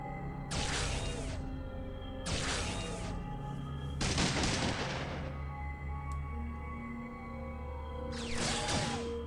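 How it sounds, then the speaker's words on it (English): Gunfire from the video game Fallout 2: four loud bursts of shots and booming blasts, spaced a couple of seconds apart over a steady low background hum, with no talking. "Shooting."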